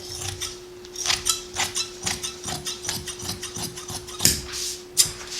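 Scissors snipping through fabric apron pieces, a string of close, crisp cuts and rustles under a steady faint hum, with no one talking.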